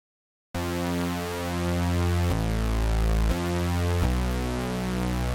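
Cinematic bass stab patch in the Serum synth with detuned unison voices: a thick, wide, sustained buzzy chord that enters abruptly, shifts pitch in two distinct steps, and holds loud and steady before cutting off.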